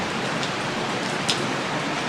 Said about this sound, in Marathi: पाऊस थांबायचं नाव घेईन